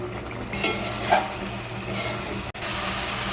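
Hilsa fish head curry bubbling and sizzling in a pan, a steady soft simmer with occasional light scrapes of stirring, fairly faint and with no talking.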